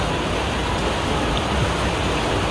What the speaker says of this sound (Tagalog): walang tigil tong ulan. Tignan nyo naman oh, palakas ng palakas.